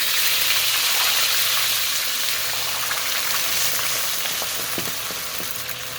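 Water poured into a hot pan of cumin seeds for basmati rice hisses and sizzles loudly at close range, with a broad steady crackle that slowly settles, plus a few light clinks and stirring sounds near the end.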